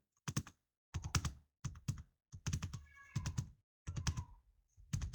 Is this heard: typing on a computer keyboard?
yes